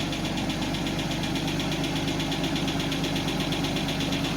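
A 1991 Mercedes 190E engine idles close by in a steady, even drone, with a fine rapid ticking from the valve lifters running through it. The sound holds unbroken for the whole stretch, and no one speaks.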